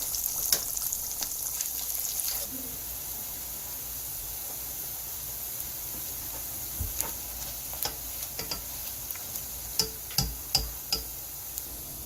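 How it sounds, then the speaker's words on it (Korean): Potato batter sizzles and crackles in hot oil, a soft steady hiss with scattered pops and clicks growing sharper toward the end. "이제 맛있게 만들어진 감자 반죽을 기름에 넣어볼게요."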